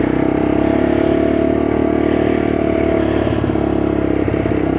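A Lexmoto LXR motorcycle heard as it rides away, its engine giving a steady, fairly loud drone with road and wind noise and a light rattle, no talk.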